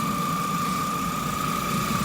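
Car engine idling steadily right after a cold air intake install, a continuous close-up drone with a low rumble and a constant whine, no talking.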